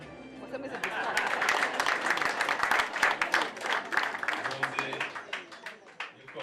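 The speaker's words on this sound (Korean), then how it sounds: "드디어 하객들의 축하와 환호 속에 신부가 나옵니다" Wedding guests at a ceremony in Rwanda cheer and applaud as the bride appears, a dense, lively crowd din of clapping and voices that swells and stays loud throughout.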